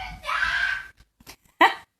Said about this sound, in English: I hope everybody loves the screaming in the background.